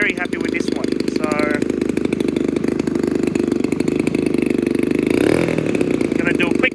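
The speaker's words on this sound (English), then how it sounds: "I'm going to do a quick rev up for you guys." The gas engine of a Hangar 9 X Cub model airplane runs close by with a loud, buzzy, rapid firing rhythm that holds steady throughout, while someone talks over it.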